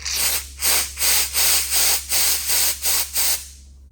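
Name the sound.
compressed air blowing through a Harley brake line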